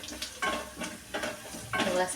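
Chana dal tempering as it fries in hot oil and is stirred, with close, steady sizzling and bursts of scraping stir strokes at a regular pace.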